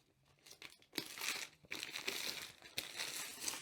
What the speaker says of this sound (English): Just peel off the wrapping.